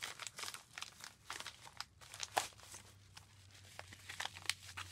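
An envelope of birthday mail being cut open, with close, crisp crinkling and tearing bursts of paper in quick irregular strokes over a low steady hum, no talking.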